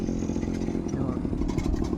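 A motorcycle engine drones steadily at close range, its low rumble filling the whole moment with a slight clattering texture and no clear rise or fall.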